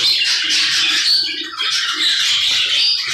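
Pet budgerigars squawk and chatter continuously, several birds close by with shrill, scratchy calls rising and falling over about three seconds, with no talk.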